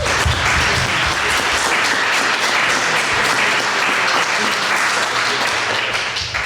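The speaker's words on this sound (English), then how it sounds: "Let's have another round of applause for them." Sustained audience applause for city council candidates at the end of a ward candidate forum, a thick, even wash of many hands clapping throughout, with faint voices mixed in.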